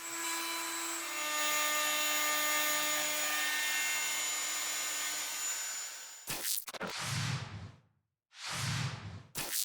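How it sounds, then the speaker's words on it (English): A handheld wood router cutting half tenons by hand during an abandoned-building renovation: a loud, steady high-pitched whine runs for about six seconds, then gives way to two separate bursts of broadband cutting noise with a short gap between them. "setting up my router and cutting those half tenons by hand"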